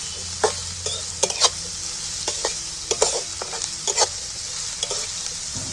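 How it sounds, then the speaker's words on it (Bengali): Onions sizzling in hot oil, a steady hiss broken by sharp clinks and scrapes as a utensil stirs the pan. "এটাকে আমি তেলের মধ্যে একটু ভেজে নেব একটু ঘন ঘন নাড়তে হবে"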